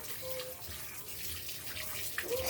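Running water splashes steadily during a bath, a continuous broadband wash of flow at moderate level with no talking over it.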